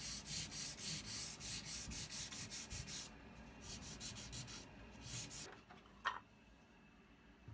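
Old brittle sandpaper rubs back and forth on a workpiece in rhythmic, scratchy strokes, fairly close, then pauses with a few faint scrapes and a single sharp knock near the end.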